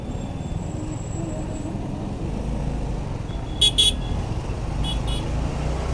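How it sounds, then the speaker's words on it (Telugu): Highway traffic rumbles steadily around a motorcycle, with a couple of short car horn toots in the middle and two fainter toots near the end. "ఇంత ట్రాఫిక్ ఎందుకుంది"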